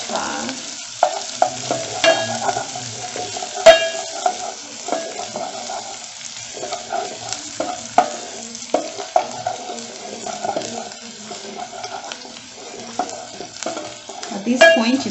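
Ginger and garlic paste sizzles in a pan for butternut squash soup while being stirred, a steady close frying hiss broken by repeated spoon scrapes and clinks against the pan.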